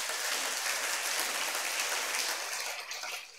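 A church congregation applauds for the Lord Jesus, with steady, dense clapping from many hands filling the space throughout, then tapering slightly at the end.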